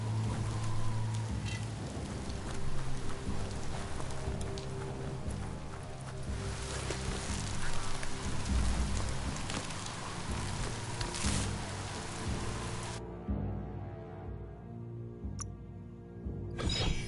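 Rain falls steadily in the video game Biomutant, a dense, continuous hiss of drops that holds for most of the stretch before abruptly thinning out, with a few soft rustles and no speech.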